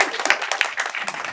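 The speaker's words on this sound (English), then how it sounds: "you can clap for Patrice because she's amazing" An audience applauds at an academic event, a dense burst of many hands clapping together, fairly close and steady throughout the short stretch.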